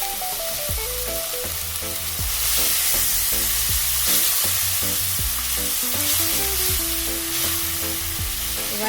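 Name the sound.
turmeric and spices sizzling in a pan with a little water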